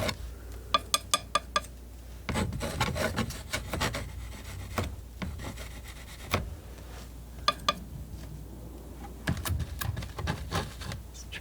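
A palette knife rubs and scrapes paint across canvas in back-and-forth strokes, with dry rasping passes broken by sharp little taps and clicks, close and fairly loud with no talking.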